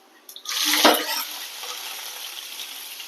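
Ground onion paste goes into a hot pan and gives off a sudden loud sizzle. The hiss then settles into a steady, softer frying crackle.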